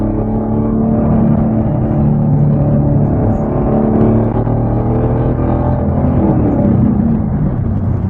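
2017 Chevrolet Camaro SS 1LE V8 engine droning loud and steady from inside the cabin, its pitch shifting as active rev matching blips the throttle through downshifts.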